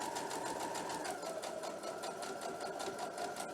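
A sewing machine stitching a quilt block, a steady rapid mechanical chatter of the needle at a slow, even pace, close and continuous throughout.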